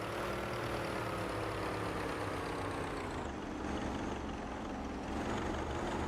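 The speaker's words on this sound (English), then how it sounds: "Hear how much Heintinen comes off the throttle there before they hit the curb" A 1930-era Grand Prix race car in a video game roars steadily through the Monaco chicane, then briefly eases off the throttle as the engine note drops, loud and close.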